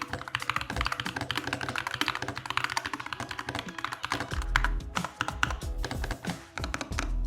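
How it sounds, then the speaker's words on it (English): Rapid, continuous clacking of keys on a cheap gaming keyboard, close and fairly loud, with heavier thocks and a few spacebar hits toward the end. "just listen to the keyboard"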